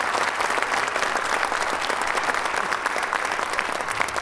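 An audience at a band concert gives a short round of applause for local cultural councils, the dense clapping sustained and even from start to finish.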